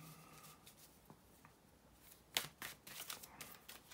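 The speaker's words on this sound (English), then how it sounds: "give me a couple of seconds, guys, just to make the shuffling here" Tarot cards being shuffled by hand: quiet at first, then a series of crisp riffling and slapping bursts close to the microphone, with no talking.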